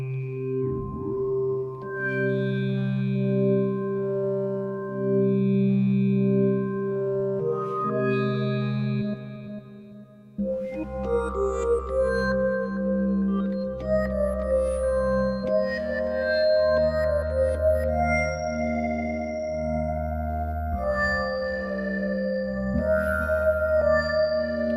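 A Hydrasynth synthesizer patch with reverb and delay plays sustained, layered tones that echo and smear into one another, shifting to a fuller, deeper chord partway through, with no voices.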